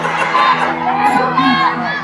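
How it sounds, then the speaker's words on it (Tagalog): A crowd of adults shouts together, including women, a dense, steady mass of raised voices with cheering and whoops rising and falling through the whole short burst. "Pag sumigaw tayong lahat ng sugod,"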